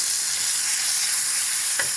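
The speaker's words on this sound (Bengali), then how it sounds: "তেলটা গরম হয়ে গেছে, এখন আমি এর মধ্যে দিয়ে দেবো এই চিংড়ি মাছটা।" Prawns frying in hot oil for a broccoli-stem prawn curry, a loud, steady close sizzle with a brief clink near the end.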